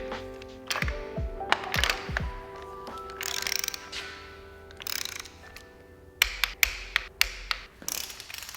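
Ratchet torque wrench clicking as it tightens spark plugs on a Mitsubishi Evo VIII engine, with several separate bursts of quick close ratcheting clicks and a few sharp taps, no talking.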